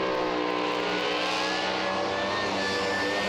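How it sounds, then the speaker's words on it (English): A Pro Alcohol drag racing car at Willowbank Raceway launching with a loud, sustained, rising engine roar that stays dense and steady across the run. "Car launched well"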